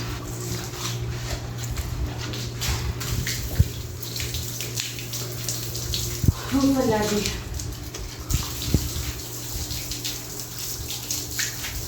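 Water splashes and sprays steadily while the walls of an old village house are washed before Eid, a broad continuous wash under a voice speaking nearby.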